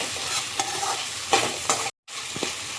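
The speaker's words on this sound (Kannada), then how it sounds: "ಇದಕ್ಕೇ 2 ಹಸಿರು ಮೆಣಸನ್ನು ಹಾಕಿ ಫ್ರೈ ಮಾಡ್ತಿದ್ದೀನಿ." Tomato and two green chillies frying in a pan for crab masala make a steady, close sizzle broken by several spatula scrapes, with a momentary dropout to silence partway through.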